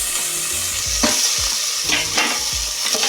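Chopped tomatoes hit hot oil over browned onions in a pan for Thanjavur-style cluster bean sambar, crackling in a loud, continuous sizzle while a spoon scrapes and stirs in several distinct strokes.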